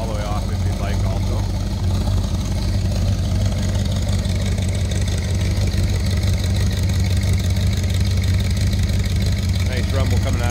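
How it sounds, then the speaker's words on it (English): A 1932 Ford Roadster's 350 V8 crate engine idles with a steady, loud low rumble throughout, and a voice talks over it. "Nice rumble coming out of that 350."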